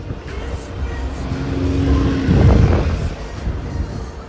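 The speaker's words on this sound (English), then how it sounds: "that black car there, just reversed on a one-way street" A black car reverses the wrong way down a one-way street in Great Yarmouth, its engine swelling nearby to a loud peak and fading, with street ambience and wind on the microphone.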